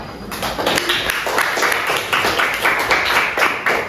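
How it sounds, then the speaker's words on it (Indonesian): Students in a classroom give a group a round of applause: steady, dense clapping from many hands, fairly loud and unbroken for about four seconds. "Silakan berikan tempat dan tepuk tangan untuk kelompok 4."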